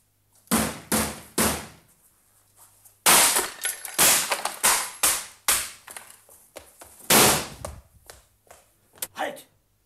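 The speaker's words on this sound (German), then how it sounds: "Schlagt die Tür ein! Los!" A door being smashed in for a radio drama adaptation of Treasure Island, with a series of heavy splintering blows in irregular bursts, loud and close, and shouting voices between and over the impacts.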